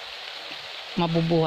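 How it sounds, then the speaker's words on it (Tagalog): Rain falls on a freshly planted peanut field as a steady, close hiss, and a voice speaks over it near the end. "So napapansin nyo, umuulan."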